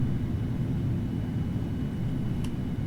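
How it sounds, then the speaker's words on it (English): A KLM Boeing 787-10 taxis on idle thrust, heard as a steady low rumbling drone with a constant even hiss, heard alone. "this aircraft is very light. So it's taxiing on idle like a beast."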